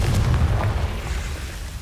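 Confringo fire spell explosion in Hogwarts Legacy, heavy booming bursts with strong low thumps in quick succession, then a short rumbling tail.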